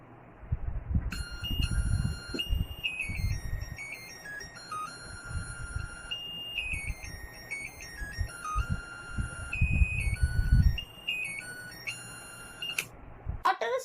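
The earthquake early warning model at a school science fair sounds its alarm as a looping electronic melody of high beeping tones, with low rumbling background noise underneath.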